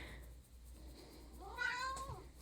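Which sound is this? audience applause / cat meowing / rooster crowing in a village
cat meowing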